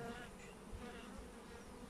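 Forager honey bees buzz outside the hive in a faint, continuous hum.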